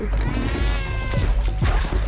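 A cat meows in a drawn-out, plaintive cry over a dense, loud background of game sounds from the video game Stray.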